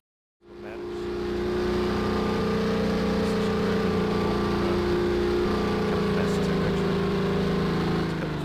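A player-built plane in Garry's Mod runs its engine as a loud, steady droning hum that starts abruptly and holds evenly with no break.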